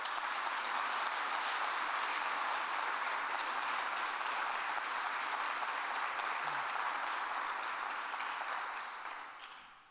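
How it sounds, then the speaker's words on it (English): An audience applauds at the closing of the FARI Brussels Conference 2025, a dense, steady clapping from a large crowd that holds for several seconds and then fades away. "we owe a big round of applause to everybody that contributed to this impact"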